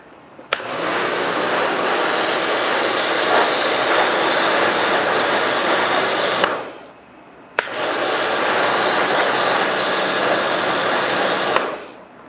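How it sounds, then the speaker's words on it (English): A cheap electric pressure washer running in two loud, steady bursts of harsh motor and spray hiss. Each starts and stops abruptly, with a brief near-silent pause between them and no voices. "Anybody uses one of these cheapo pressure washers, just a little pro tip for you."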